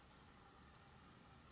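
Two quick bursts of high electronic beeping from a Casio G-Shock wristwatch alarm, close and clear, with a third burst just starting at the end against near silence.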